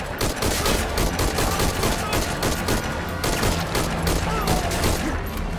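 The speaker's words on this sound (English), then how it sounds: "somebody's shooting at me" Enemy soldiers in Metal Gear Solid V open up with sustained automatic gunfire, a dense run of rapid shots that stays loud and steady throughout.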